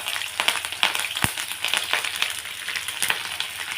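Green chillies fry in hot oil in a kadai, a continuous crackling sizzle peppered with sharp pops and spits, close and fairly quiet.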